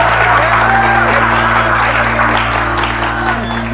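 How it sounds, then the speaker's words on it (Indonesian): A crowd applauding steadily and loudly, a dense wash of clapping with a few faint whoops mixed in. "Tepuk tangan untuk Kemal."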